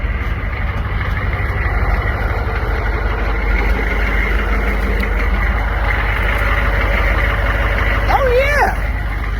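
Military Humvee engines idle steadily while warming up, a continuous low rumble that holds throughout with no breaks, and a brief voice comes through near the end.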